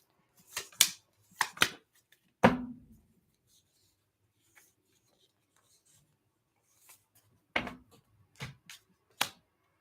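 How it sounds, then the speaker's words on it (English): Tarot cards are shuffled in short papery riffles and flicks, a few quick bursts near the start and again near the end, with quiet pauses between and no talking. "Last shuffle."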